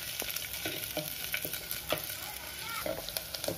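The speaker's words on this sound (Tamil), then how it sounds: "காஞ்ச உடனே நம்ம இந்த கட் பண்ணி வச்சுருக்கிற சின்ன வெங்காயத்தை அதில் போட்டு நல்லா வதக்கணும்" Shallots and curry leaves sauté in hot oil in a clay pot for mutton sukka: a dense, close sizzle runs throughout under quick, repeated scraping strokes of a stirring spoon, with no voices.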